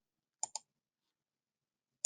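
Three sharp mouse clicks in a software application, two in quick succession and then one more after a pause of well over a second, close and quiet with silence between.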